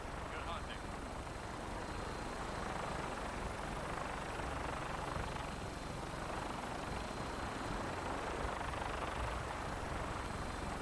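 A vertibird aircraft in Fallout 4 hums with a steady rotor and engine drone, even and sustained throughout at moderate distance, with a voice speaking over it.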